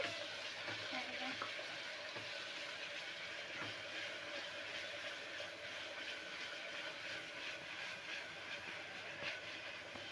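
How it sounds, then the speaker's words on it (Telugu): Ginger-garlic paste sizzling steadily in a hot pan with curry leaves, a dense continuous frying hiss with occasional faint stirring clinks, close and even throughout. "అల్లం వెల్లుల్లి కొంచెం వేగాలి"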